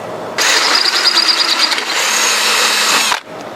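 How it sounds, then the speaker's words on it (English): A drill bit being sharpened on a power tool in a lawn mower repair setting, a loud steady grinding whine that starts abruptly and runs about three seconds before cutting off, with no talk. "Yeah, I think I'll go sharpen this bit again."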